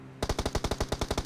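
Rapid automatic gunfire in the PUBG Mobile battle royale game, a burst of about ten evenly spaced, loud shots fired in quick succession after a brief quiet moment, with no talking.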